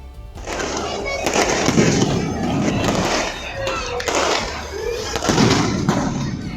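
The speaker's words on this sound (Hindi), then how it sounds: "अमृतसर के स्वर्ण मंदिर में जोरदार आतिशबाजी की गई" During a festival night at the Golden Temple in Amritsar, fireworks crackle and thump in repeated bursts, sometimes with a faint whistle, over a constant crowd murmur and a narrating voice.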